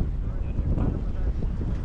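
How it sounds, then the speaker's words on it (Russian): Strong wind in Kronstadt buffets the microphone in a steady low roar, gusting throughout with an open, outdoor rush and no talk. "Ветрище очень жесткие еще."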